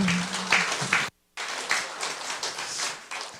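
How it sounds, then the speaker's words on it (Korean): Hospital staff at a spring revival service clap for one another, a lively burst of close applause with distinct individual claps, briefly cut off by a short gap of silence before the clapping resumes and carries on. "우리 모두를 위해서 박수 한번 쳤으면 좋겠습니다"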